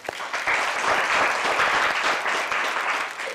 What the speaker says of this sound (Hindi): आप सभी ताली बजाएं